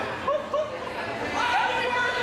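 Wrestling crowd at the Orpheum in Ybor City, a steady murmur of chatter with scattered laughter and a few louder shouts, with a voice talking over it.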